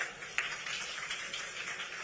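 An audience applauds at a political event in Delhi, a steady wash of many hands clapping, dense and continuous but fairly distant and soft, with no voices standing out.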